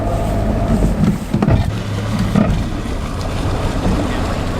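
A steady low rumble of an idling boat motor runs throughout, mixed with wind buffeting and water noise, with no clear talking.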